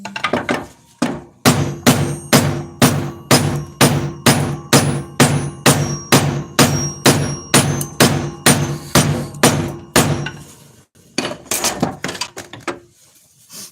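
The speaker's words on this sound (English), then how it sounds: "I will split this wedge right in line with that slot and hammer in the other wedge." Hammer blows drive a wedge into the slot of an axe handle, with about twenty sharp, evenly spaced strikes in a fast steady rhythm, then a pause and a few softer knocks, close and loud.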